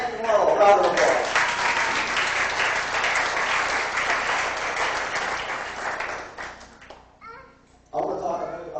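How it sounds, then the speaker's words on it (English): Applause from a family reunion gathering in 1997 rolls as a steady, moderately loud clapping crowd with children's voices mixed in, dying away near the end as people start talking again. "Round of applause."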